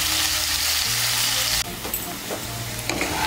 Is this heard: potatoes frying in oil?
yes